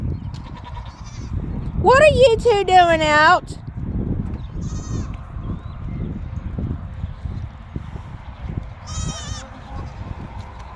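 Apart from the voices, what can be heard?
goats bleating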